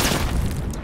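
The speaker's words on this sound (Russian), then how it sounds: "Сейчас мы его с РПГ-7." RPG-7 rocket explosion in the Battlefield Hardline multiplayer game, a single loud, close, deep boom that fills the brief moment and then fades slightly.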